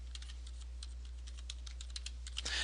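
Steady, close typing on a computer keyboard, a brisk run of light, even key clicks over a low electrical hum while a layer name is entered in a paint program, with no talking.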